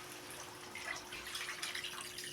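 Water pouring into a pot of pork belly sinigang as it cooks, a continuous soft splashing trickle close by with no talking.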